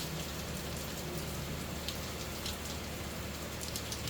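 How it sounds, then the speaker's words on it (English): Heavy morning rain pours down steadily in Jamaica, a dense continuous hiss of drops drumming on surfaces close by, with no voices. "Powerful rainfall this morning"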